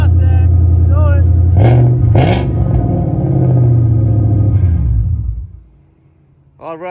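A 2018 Ford Mustang GT rumbles loud and close, its engine revving in swelling bursts before easing back to a lower idle and then falling quiet.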